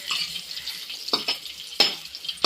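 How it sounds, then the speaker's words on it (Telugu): Raisins frying in hot ghee for semiya make a steady bright sizzle, with a few sharper crackles and scrapes of stirring breaking through near the end. "కిస్మిస్ కూడా ఇలాగ నెయ్యిలో వేయించుకోవాలి"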